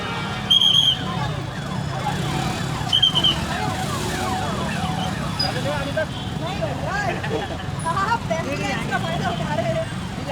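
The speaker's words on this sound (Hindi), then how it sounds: "एम्बुलेंस सायरन बजाई जा रही है" An ambulance siren wails through busy traffic noise in Indore, India, its rising and falling tone repeating steadily over engine rumble.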